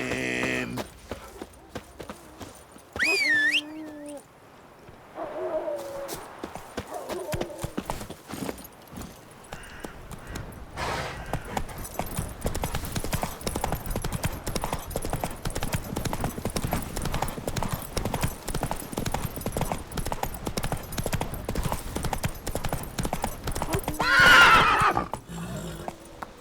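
A horse in The Witcher 3 runs with quick, rhythmic hoofbeats after a loud whinny, the clip-clop rolling on continuously beneath game sounds and occasional voices.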